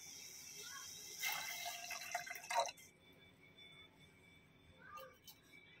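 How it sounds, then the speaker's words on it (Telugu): About 30 ml of water is poured into a pan while making green tea at home, a faint brief splash and trickle lasting over a second, followed by quiet occasional drips. "30 ml వాటర్ని యాడ్ చేయండి."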